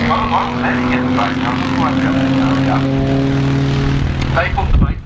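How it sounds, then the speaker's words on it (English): A 500 cc five-star JAP speedway engine running at a steady, strong drone with sustained harmonic tones. Someone talks loudly over it throughout. "The 5-star JAP motor was a very, very popular motor"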